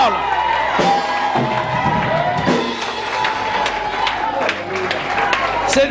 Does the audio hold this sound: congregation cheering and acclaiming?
yes